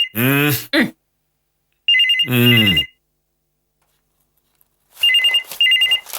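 An indoor telephone rings in a comedy scene: short electronic ringing bursts stand out clearly and separate, with a voice also speaking nearby.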